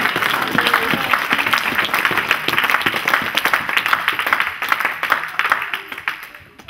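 A church congregation breaks into dense, sustained applause mixed with crowd noise and voices, loud throughout and tapering off toward the end.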